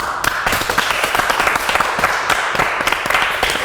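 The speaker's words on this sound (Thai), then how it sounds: "ขอเสียงปรบมือครับ" An audience at a Thai entertainment show applauds after a singer's first solo performance: dense, continuous clapping that fills the whole stretch evenly, with no voices over it.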